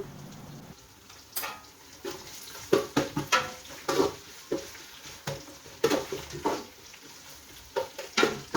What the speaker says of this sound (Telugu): అల్లం వెల్లుల్లి పచ్చివాసన పోయే వరకు ఫ్రై చేసుకుందాము.